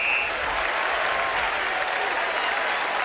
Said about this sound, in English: And the Essendon fans applaud Timmy Watson